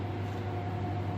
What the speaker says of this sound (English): excuse the noise, I got machines back from work on test,